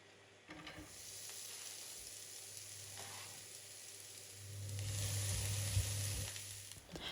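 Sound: onion frying in oil in pan

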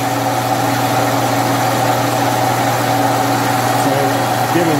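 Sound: Austin Healey overdrive gearbox running in gear

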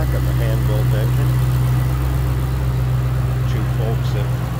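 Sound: 2007 Ford Mustang Shelby GT500 supercharged 5.4 liter V8 idling

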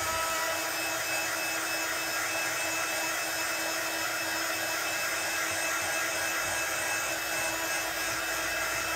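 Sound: heat gun blowing to dry card craft

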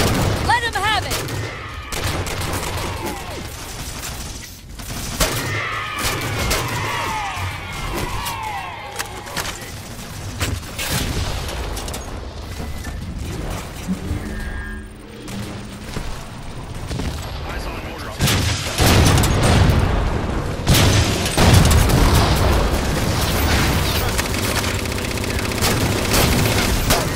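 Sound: gunfire and explosions in video game Halo 4

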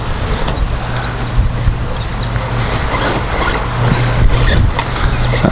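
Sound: VRX RH1045 Octane XL 1:10 RC truck motor driving

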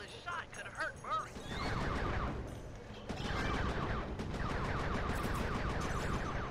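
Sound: fireworks being shot in Sly 3 video game

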